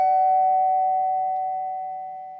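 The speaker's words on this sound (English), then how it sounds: "the doorbell rings" A video game doorbell rings once in a horror story game, a clean sustained electronic chime that hangs alone and slowly fades over a couple of seconds.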